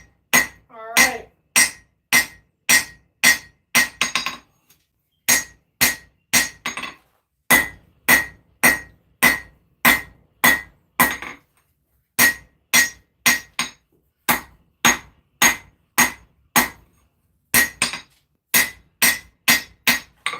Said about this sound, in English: I can start forging down the distal taper.